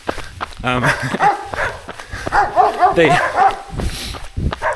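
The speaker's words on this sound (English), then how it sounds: "They always come out barking when I run by." Dogs bark and yip at a runner passing by outdoors, with a close burst of harmonic barks and whines mixed with footsteps and heavy breathing, partly overlapping speech.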